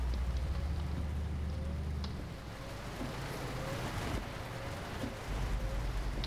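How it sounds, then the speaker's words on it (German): Steady rain pours down in Euro Truck Simulator 2, a dense wash of drops that is broad and constant and drifts slightly in loudness, with no voices over it. "Das ist die Regeneffekte, finde ich ja auch irgendwie geil."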